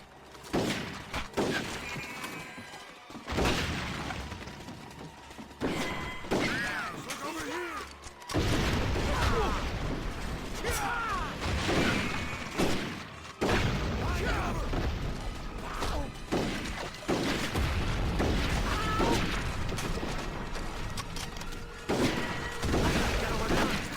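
Cannons blown apart in the Red Dead Revolver game: a string of heavy booms and crashing blasts with clattering debris, loud and close, recurring over the stretch with someone talking over the action.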